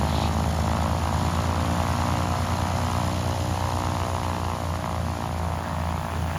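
An 80-year-old C-47 (DC-3) twin-propeller aircraft taxis with its radial engines droning steadily and loudly up close, a continuous deep throb with no pauses.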